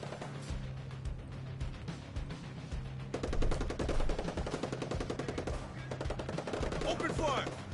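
Gunfire in Ghost Recon Breakpoint, rapid automatic bursts that start sparse and become sustained, fast rattling volleys from around three seconds on, moderately loud over a low steady hum, with voices faintly underneath.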